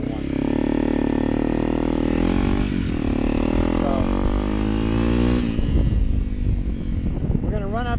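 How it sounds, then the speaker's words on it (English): A 2023 Honda CRF300L Rally motorcycle fitted with a loud aftermarket exhaust runs steadily with a rough, droning engine note, loud and close throughout, rising briefly as it revs. "This particular 300L Rally has an aftermarket exhaust, and it's quite a bit louder than a normal one."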